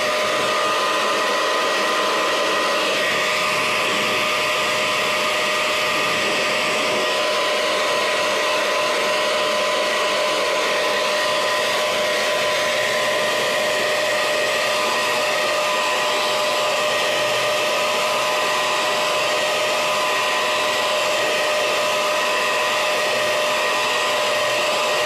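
A hair dryer blows steadily to dry paint on a faux wood grain craft piece, a loud continuous whirring hum with a fixed motor whine that runs unbroken the whole time, close by and alone.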